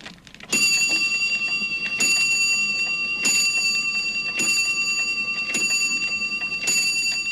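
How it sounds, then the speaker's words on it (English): A shop doorbell chimes repeatedly at a steady pace, each bright ringing strike sustaining and overlapping the next, fairly loud and close. "ping went the shop's doorbell"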